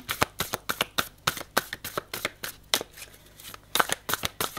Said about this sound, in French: Je vais aller recouvrir les cartes pour voir l'évolution sur la ruche.